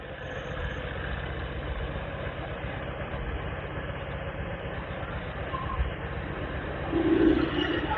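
A Honda Air Blade 125 fuel-injected scooter engine idles close by with a steady low hum, its pitch holding even for several seconds before rising slightly near the end.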